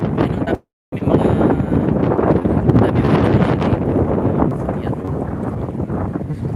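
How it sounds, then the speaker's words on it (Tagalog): Strong wind buffets the microphone at the Embarcadero de Legaspi waterfront, a loud continuous roar with one brief dropout near the start, close and steady throughout. "Lakas ng hangin dito."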